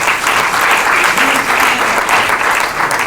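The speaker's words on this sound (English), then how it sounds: "Let's give a round of applause for our sponsors" An audience applauds for sponsors at a community conversation event, a steady, loud wash of clapping that holds evenly from start to finish with no talking.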